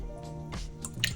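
Milk poured into a waffle batter in a bowl, wet dripping and squishy liquid sounds in a few short bursts, close and fairly quiet.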